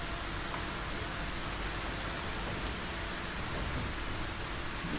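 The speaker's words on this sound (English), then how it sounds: "It was a rainy day." Rain falls steadily on a rainy day, a constant even hiss with no voices or other sounds breaking through.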